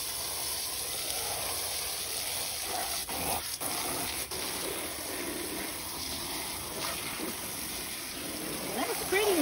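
Water rinsing a dirty wicker basket, a steady rushing and splashing flow running throughout, close and fairly loud, with brief disturbances as the stream shifts.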